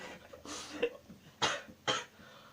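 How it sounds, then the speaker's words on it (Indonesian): Three or four harsh coughs burst out close by in quick succession, each a short breathy rasp, with quieter throat noises between them. "Sorry ya, saya batuk"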